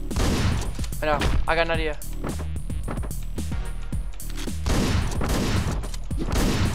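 Heavy gunfire from the Hotline Miami video game blasts in dense bursts over thumping game music, while someone speaks briefly over the shooting.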